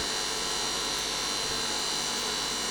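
A home-type cotton candy machine's motor runs steadily, a constant close hum with broadband whir and no pauses, alone without any voices.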